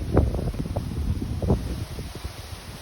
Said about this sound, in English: We're going through a windstorm right now, and the wind is blowing so hard.